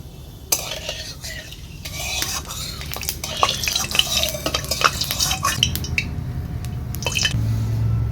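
Whole cumin seeds frying in hot mixed mustard and white oil, a close crackling sizzle with repeated scraping stirs and light utensil clinks throughout.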